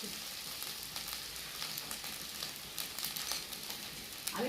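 Fish and taro curry with turmeric frying in a pan, with a faint continuous sizzle and soft stirring scrapes running steadily throughout, quiet and close, no voices.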